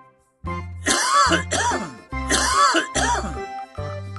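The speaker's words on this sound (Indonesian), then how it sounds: "Suara orang sedang batuk." Two pairs of harsh, throaty coughs, close and loud, separated by a short pause.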